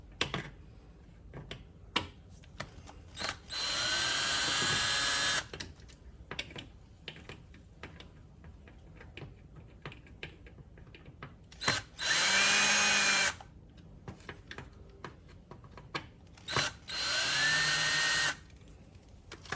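Ryobi power drill backing screws out of a shelf being dismantled, in three loud whirring bursts separated by quieter handling clicks and small knocks.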